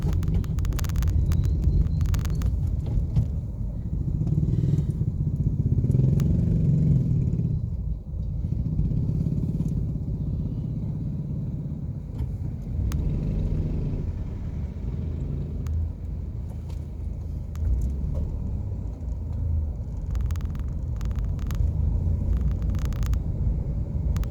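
Steady traffic rumbles across the San Juanico Bridge as cars and motorcycles pass through a weighing checkpoint, a continuous low engine drone with passing swells, heard without talk.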